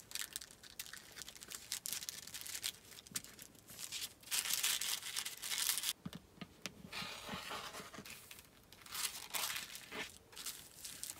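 Paper foundation piece for hand-stitched paper piecing being folded along a seam, a quiet rustling and crinkling in several soft bursts, close by.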